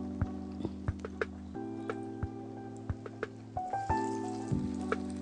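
Vegetable paneer pieces deep fry in hot oil with a soft, steady bubbling sizzle and scattered sharp pops and crackles, heard close and alone.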